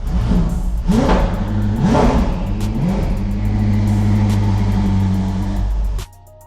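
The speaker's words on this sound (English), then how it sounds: "Adrian takes us for a ride in his Koenigsegg Jesko to the penthouse" A Koenigsegg Jesko revs and pulls away loudly and close, with engine pitch climbing in surges and then holding a steady drone before cutting off abruptly near the end.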